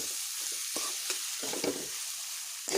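Potatoes with spices fry in a pan, a steady close sizzle broken by short stirring scrapes, with no voices.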